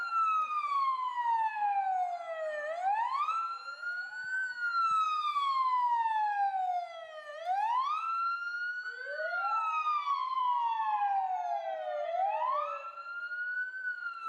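Fire engine siren during a fire brigade vehicle parade marking a volunteer fire department's centenary in Duplica, Slovenia, a loud wailing tone sweeping down and back up repeatedly, with overlapping sirens layered together.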